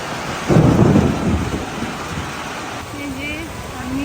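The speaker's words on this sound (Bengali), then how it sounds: "অনেক ভয়ঙ্কর বৃষ্টি হচ্ছে প্রচণ্ড জোরে বৃষ্টি হচ্ছে" Very heavy rain pouring steadily at a country garden house, with a deep rumble of thunder early on and a voice speaking briefly over the downpour.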